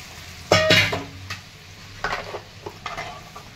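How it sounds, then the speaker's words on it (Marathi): Curd and gram flour kadhi being stirred in a pot, a loud scraping swirl at first followed by a few softer stirring strokes with light sizzling between them. "तर आता एक 5-6 मिनिट कढी होऊन द्यायची।"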